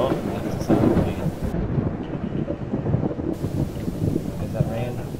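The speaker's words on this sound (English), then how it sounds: "Oh, that's the sound of rain." Steady rain and low, rolling thunder fill the scene continuously in the zombie survival game Project Zomboid, a dense, constant rumble that persists throughout.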